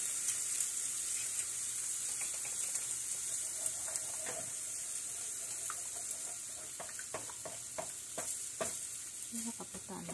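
Egg frying with mushrooms and curry powder in a hot pan, a steady close sizzle with scattered crackles and a few scraping stirs, no voices.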